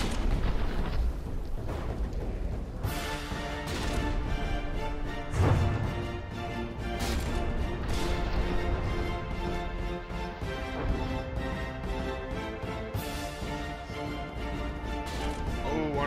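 In the From the Depths video game, ships exchange dense gunfire and turrets take hits, producing a continuous barrage of booming shots and impact crashes with heavy blasts layered under a steady din of battle.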